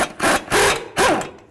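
A power tool with a 21mm socket spins off a ball joint nut on a 2006-10 Dodge Charger front suspension, giving three loud, close whirring bursts with short gaps between them.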